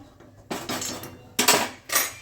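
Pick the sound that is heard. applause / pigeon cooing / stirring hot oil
stirring hot oil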